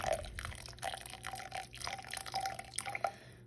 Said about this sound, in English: pour out my 1/2 cup of water